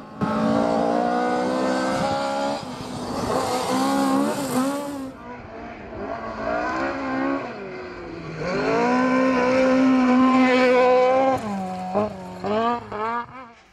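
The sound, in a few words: Toyota Starlet rally car driving sideways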